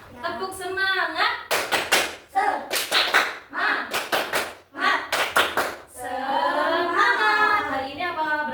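A primary-school class in Indonesia performs the 'tepuk semangat' clapping chant: sharp, loud bursts of hand claps in a quick rhythmic pattern, alternating with children's chanting voices, and a teacher speaks near the end.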